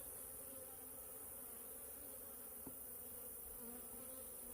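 A soft, steady hum of many honeybees buzzing together at an open hive, a continuous drone close by with no voices.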